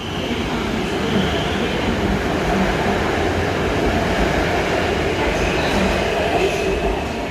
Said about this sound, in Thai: รถก็ ออกไป นะครับ